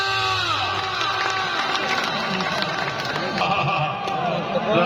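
Spectators cheer at a match in Al Noor Stadium, a continuous loud crowd roar with an amplified announcer's voice talking over it the whole time.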